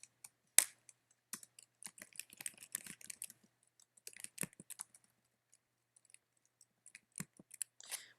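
Someone types on a computer keyboard into a Word document, a sparse run of crisp key clicks in uneven bursts with pauses, close and fairly quiet against a silent background.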